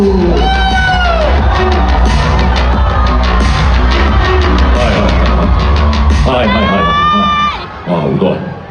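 A large crowd at the Hong Kong Comic-Con 2026 opening ceremony roars with sustained cheering, shrieks and whoops, loud and dense throughout, with high-pitched screams rising near the end before briefly dipping.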